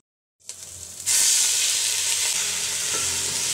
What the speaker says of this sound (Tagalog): naghiwa na ng bawang, sibuyas at luya dahil gigisahin muna ang karne.